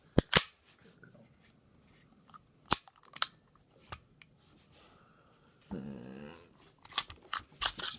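A Walther PPK/S pistol being taken apart by hand, sharp metallic clicks and snaps of the slide and parts spaced out with quiet gaps, close up, plus a brief scraping rattle.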